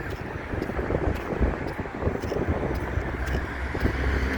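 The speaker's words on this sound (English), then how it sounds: "we're having that bit of wind" Strong wind buffets the microphone on the Blackpool seafront during a high tide, a steady loud roar with low rumbling gusts that holds throughout, with no voices.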